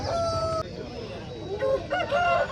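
An Aseel rooster crows loudly and close at a busy Saturday fowl market in Mydukuru, its call rising in drawn-out harmonic bursts over a constant background murmur of crowd noise.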